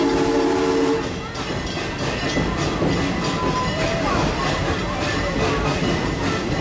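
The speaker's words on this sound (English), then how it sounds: "We're now pulling into the Congo train station." The Serengeti Express train at Busch Gardens Tampa rumbles and clatters steadily as it pulls into a station, with a brief horn tone near the start and a voice talking over it.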